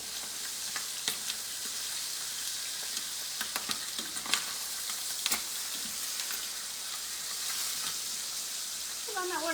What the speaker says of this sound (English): browning this in the pan